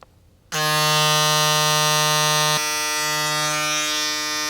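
An electric hair clipper, a Wahl Vapor, switches on and runs with a loud, steady buzzing hum, close by, shifting slightly in pitch partway through.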